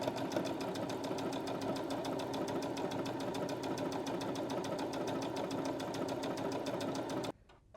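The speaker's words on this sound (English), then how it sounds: "I sewed my first straight line." Sewing machine stitching a straight line, a fast, even mechanical chatter running steadily and close for about seven seconds before stopping abruptly, with no talk.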